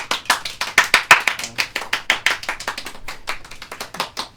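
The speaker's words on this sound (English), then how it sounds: "And then he seems surprised by this applause and nods his head." Clapping from a small group, fairly close and lively, with quick uneven claps forming a rhythmic patter that stays strong for several seconds before thinning slightly.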